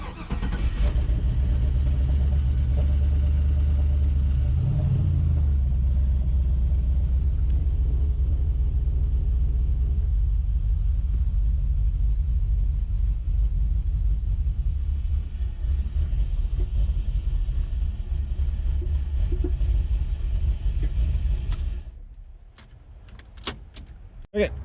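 A small engine running steadily after its fuel system was cleaned and primed, a loud continuous low rumble that holds for about twenty seconds, then drops away abruptly near the end as it cuts out.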